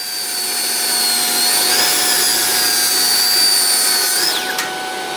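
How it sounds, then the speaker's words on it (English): A miter saw spins up with a steady high whine while cutting wood for a stool seat, then winds down sharply at the end; close and loud, with no talking. "So I'm over here at the miter saw."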